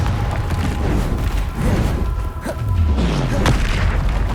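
A Confringo explosion spell in the Hogwarts Legacy video game bursts with dense, loud booming blasts and crackling impacts that continue throughout.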